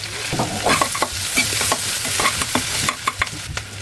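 Chopped onion and bay leaves frying in hot oil, a loud close sizzle with stirring scrapes and clinks recurring every fraction of a second.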